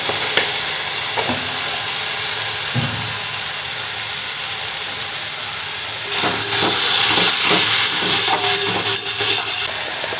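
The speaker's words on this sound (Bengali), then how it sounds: "এবার সমস্তটাই ভালোভাবে কষিয়ে নেব" Potol (pointed gourd) and prawn curry masala sauté loudly in a hot pan, a steady close sizzle with spoon stirs that swells and grows busier partway through.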